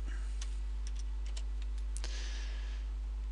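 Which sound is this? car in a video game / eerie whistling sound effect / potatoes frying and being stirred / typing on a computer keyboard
typing on a computer keyboard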